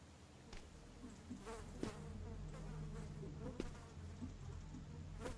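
A fly buzzes steadily in a Spanish horror video game built in Unreal Engine. The drone is close and continuous, under a low background hum, with a few faint clicks and no voices.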